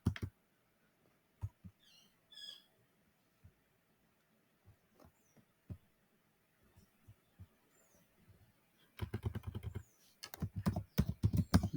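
Computer keyboard keys clicking while typing code, sparse scattered taps at first and then a fast dense burst of keystrokes near the end, quiet and close.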